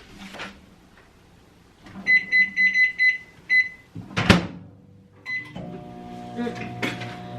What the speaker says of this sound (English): Hear the microwave in the background